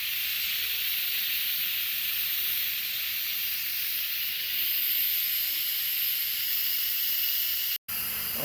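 An Instant Pot releasing pressure, sending out a loud, continuous hiss of escaping steam close by that holds steady for several seconds before cutting out abruptly near the end.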